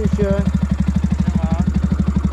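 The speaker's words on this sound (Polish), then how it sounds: "Fajnie ten wydech chodzi." Motorcycle exhaust idling with a fast, even pulsing beat, loud and close, while a voice briefly speaks over it.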